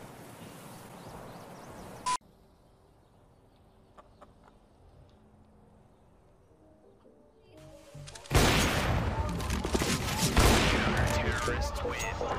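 Counter-Strike: Global Offensive gunfire: a brief burst at the start, a long quiet stretch with faint noises, then loud rapid gunfire erupts and continues in dense volleys until the end.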